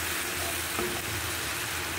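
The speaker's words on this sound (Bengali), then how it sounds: "এখন এটা একটু কষিয়ে নিচ্ছি" Vegetables with chilli and salt sautéing in a pan for a dried-fish and pumpkin curry, giving a dense, even hiss of frying that stays constant throughout.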